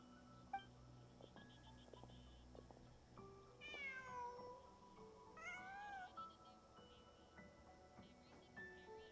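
A cat in the Genshin Impact video game gives two drawn-out meows in the middle of a quiet stretch, heard over soft game music and faint background tones, with no talking.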